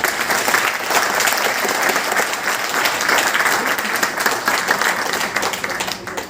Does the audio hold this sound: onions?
no